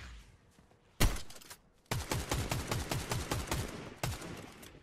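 Rapid gunfire in the video game Fortnite during a ranked match: one sharp shot, then a dense run of close, evenly spaced shots with a final crack near the end, loud and without talk.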